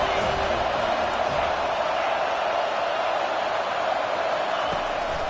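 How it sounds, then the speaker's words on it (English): A stadium crowd at an LSU vs Florida State college football game roars steadily for the defense on third down, a dense, unbroken wall of noise heard from within the stands. "Decibels rising as the crowd gets behind this defense on third down"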